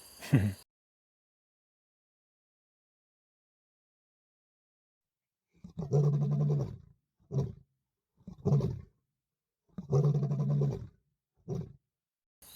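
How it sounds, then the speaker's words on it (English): Deep, grunting lion roars come at night in a series of heavy bursts after a long silence, fairly close and rhythmic, trailing off into shorter grunts, in the African wild. "Those lions, that was pretty close."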